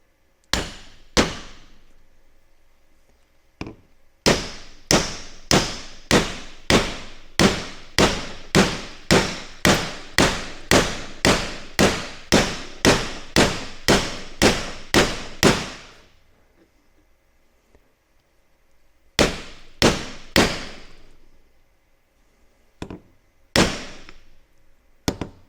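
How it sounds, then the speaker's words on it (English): Steel hammer strikes drive a bearing race into a 1980 Chevy truck NP205 transfer case: sharp, loud metallic blows in a fast, even series, then a pause and a few spaced final hits as the race seats. "You can hear that thud when you get to the bottom when it's finally seated."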